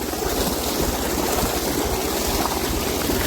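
Irrigation water runs steadily into a trench in a mustard field, a continuous close rushing and gurgling flow with no talk over it.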